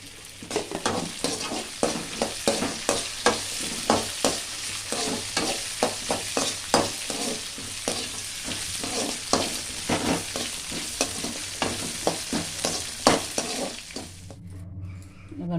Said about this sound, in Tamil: பூண்டு இஞ்சி பச்சை மிளகாய் மூணுத்தையும் வதக்கி எடுத்துடலாம்